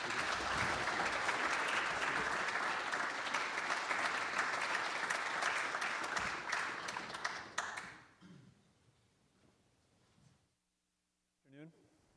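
An audience applauds to welcome the governor for opening remarks, a sustained dense wash of clapping for several seconds that then fades out, followed by near silence and a brief voice.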